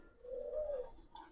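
A single soft, drawn-out coo from a Giribaz pigeon of an old breed, fairly close but quiet, rising and fading within about a second, with no voices.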